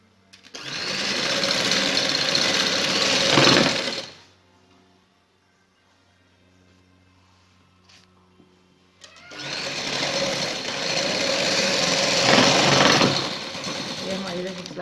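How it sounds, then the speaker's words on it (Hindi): Sewing machine running in two long continuous bursts as it stitches along a shirt border, with a quiet pause between runs; loud and close, steady whirring throughout each burst. "इस तरीके से हम सारी एंड तक सिलाई लगाएंगे।"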